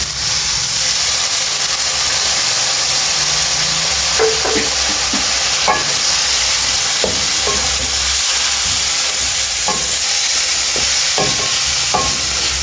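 White vinegar is poured into a just-cooked mixed vegetable pickle in a large pot with the stove off, setting off a loud, continuous sizzling hiss with scattered bubbling pops and a few soft clinks.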